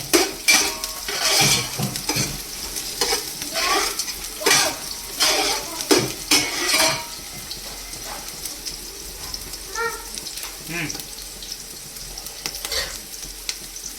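Onion and green chili sauté in a pan with a soft background sizzle, broken by bursts of spoon scraping and metal clinks against the pan, close by, fading quieter toward the end.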